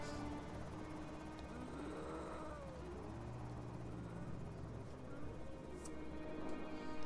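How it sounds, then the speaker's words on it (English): A low, steady helicopter rotor drone from the video game Project Zomboid runs throughout, mixed with game music and faint animal-like cries; no one speaks. "if that helicopter's taking them to Rosewood"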